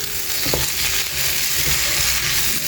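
Potatoes frying in a pan give a steady, close sizzle throughout, with soft scraping as they are stirred and mixed. No one speaks.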